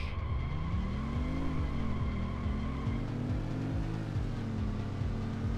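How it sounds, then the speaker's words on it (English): A loud, droning Luxor car engine in the video game Rush 2 revs steadily with rising and falling pitch sweeps, continuous and close, with no talking. "I love the sound of this car though."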